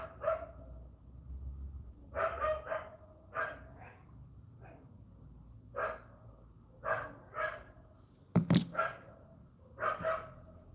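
Dogs bark indoors at a door in short bursts, roughly a dozen sharp barks in clusters with pauses between, moderately close and loud.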